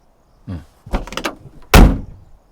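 A car door shuts with one loud, heavy slam near the end, after softer rattling thuds from the door being handled and moved.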